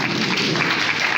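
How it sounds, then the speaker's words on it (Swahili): An audience claps together at a Kenyan public gathering, a dense, even wash of applause holding steady throughout with no clear voices. "Tokeni na kupigia watu makofi"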